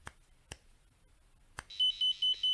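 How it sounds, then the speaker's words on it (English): A few sharp clicks are followed by an electronic burglar alarm on a microcontroller board, which sounds as four evenly spaced, loud, high-pitched beeps in a quiet room. "Now we will turn on the burglar alarm."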